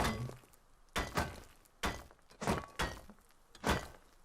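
A furnace is struck and broken in the video game Rust, with a series of about six sharp thunks and cracking impacts at irregular intervals, close and fairly loud with no talking.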